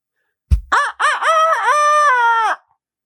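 A national champion turkey caller mimics a rooster's cock-a-doodle-doo with his voice, one loud, close crow of several rising and falling syllables that ends in a long held note, with no other sound around it.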